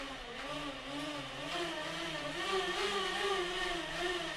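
A bicycle pedalled on Saris rollers, a continuous whirring hum with gently rising and falling pitch as the rollers spin, steady and moderately quiet with no voices.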